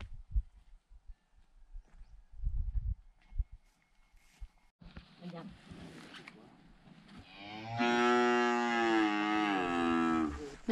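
Cows in an Aubrac pasture; after quiet footsteps and rustling, one lets out a long, loud, close moo that rises and holds for several seconds.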